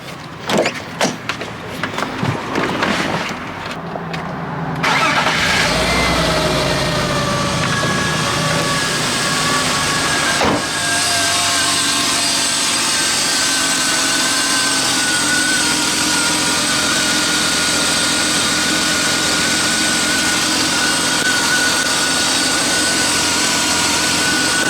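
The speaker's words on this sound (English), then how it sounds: "let's see if this starts any better" A BMW E36 328i with new spark plugs cranks with rapid, uneven churning for a few seconds, then catches and settles into a steady, smooth idle hum that continues close by.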